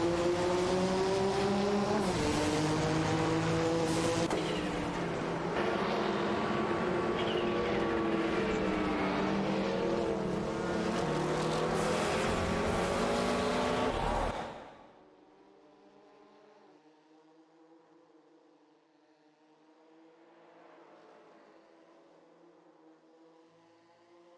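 Race cars in an AI-driven racing video game roar loudly for about fifteen seconds with engine notes rising and shifting, then drop abruptly to a much fainter, distant engine drone.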